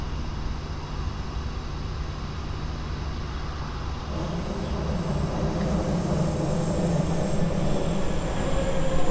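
Rolling train noise from Train Sim World 4 at a small station in Schwelm, a steady rumble that swells after the first few seconds as wheels grind and squeal faintly against the rails, with no talk.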